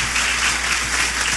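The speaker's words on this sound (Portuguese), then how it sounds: "Vamos aplaudir Jesus." A church congregation applauds during a worship service, a steady even wash of clapping that holds at the same level throughout without voices rising above it.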